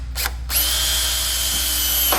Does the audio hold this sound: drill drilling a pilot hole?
yes